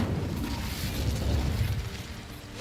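Incendio fire spell from Hogwarts Legacy, cast as a deep rumbling burst of flame that swells and holds for a couple of seconds before fading slightly, heard alone.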